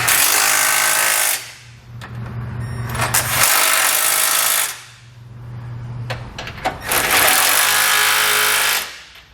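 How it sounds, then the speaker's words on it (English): A power tool with a socket snugs flange nuts on the bottom of a 2019 Chevrolet Express van frame in three loud, close bursts of harsh rattling and whirring, separated by short pauses. "I'm going to snug up all the flange nuts on the bottom of the frame"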